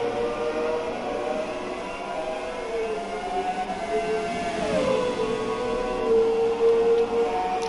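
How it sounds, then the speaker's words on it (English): A Ferrari V8 Formula 1 car in the racing game F1 2017 gives a whining engine note. The pitch holds, dips as revs drop, then settles and steadies, moderately faint and without voices. "you can't beat the sound of a V8 car"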